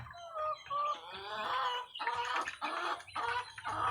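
Chickens cluck and squawk close by at feeding time, several bursts of excited calls tumbling over one another with short gaps.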